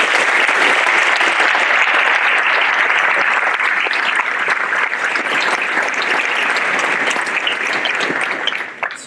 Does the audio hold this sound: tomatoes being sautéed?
no